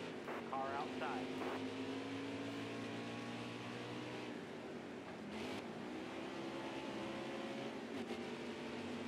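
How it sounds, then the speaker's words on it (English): A vehicle engine drones and shifts pitch, rising then fading as it passes, heard faintly in the background with other noise. "Car outside."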